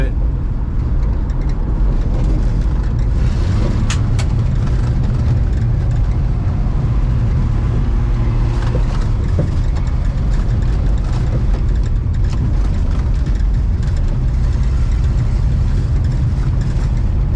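A 1960 Plymouth engine pulls steadily in third gear on a test drive, a loud continuous low rumble with wind and road noise throughout and occasional faint talk.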